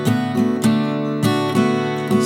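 Acoustic guitar plays the fourth-verse strumming pattern of a song, with a slight variation at the end; steady, close, repeated chord strums alone without any voice.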